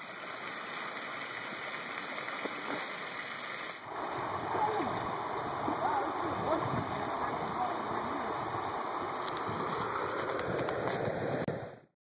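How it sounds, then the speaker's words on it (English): A small waterfall on the Buffalo River gives a constant rushing, splashing water roar, fairly close and steady, with a brief shift in the sound partway through as the listening position changes. "It's coming in from that waterfall."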